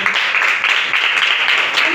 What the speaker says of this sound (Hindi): खुदा के पाक रूह के लिए जोरदार तालियां।